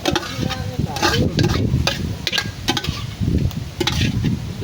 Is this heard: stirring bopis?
yes